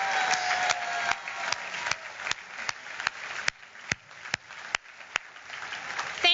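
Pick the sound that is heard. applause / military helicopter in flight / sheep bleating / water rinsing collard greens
applause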